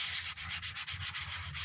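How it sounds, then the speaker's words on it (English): Sandpaper rubs in circles over a new Scout helmet, a close, hissy scratching that pulses in a quick, even rhythm of about ten strokes, without any voice. "So anytime you're sanding, always try to go in circles or ovals or some kind of S curve"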